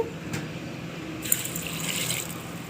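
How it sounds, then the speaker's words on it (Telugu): Water runs steadily into a pot for a couple of seconds, a soft continuous splashing with a brief click partway through. "ఒకటిన్నర గ్లాసు వాటర్ పోసుకోండి"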